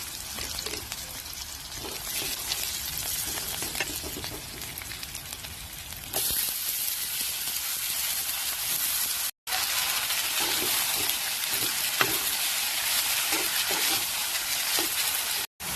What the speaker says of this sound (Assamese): ইফালে মোৰ পিঁয়াজখিনি ধুনীয়াকৈ ভাজি হৈ গ'ল